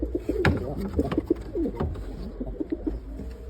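Pigeons, many of them paired, cooing in a loft: repeated soft, low coos from several birds overlap close by, with occasional wing and movement noises.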